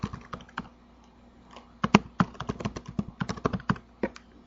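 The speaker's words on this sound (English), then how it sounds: "we type in the @ at the SQL prompt" Typing on a computer keyboard at an Oracle SQL prompt, with close, crisp key taps in irregular clusters, sparse at first and then quicker runs of clicks, with no voices.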